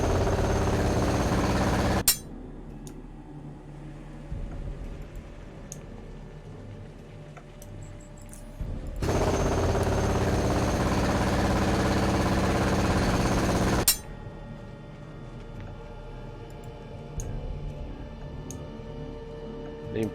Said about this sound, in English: Let's jackhammer it up.